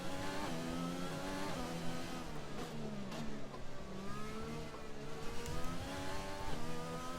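An F1 car engine in F1 2020 at the Vietnam circuit, a steady high-pitched whine rising and dropping through gear changes, loud and continuous throughout.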